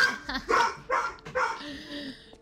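A dog barks and yips excitedly in a home during a Lies of P gaming session, several sharp, fairly close barks in quick bursts mixed with a voice talking over them.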